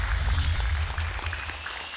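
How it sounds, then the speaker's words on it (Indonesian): A television studio audience at Hafiz Indonesia 2025, a Quran memorization contest, claps for two young contestants. The applause is steady and moderately loud over a low musical bed for the full two seconds. "Tepuk tangan untuk dua peserta pertama kita,"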